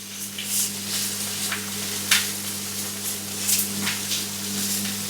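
Corned beef hash with tinned potatoes fries in a pan, a steady crackling sizzle with sharp spits and pops, close and fairly loud over a low constant hum.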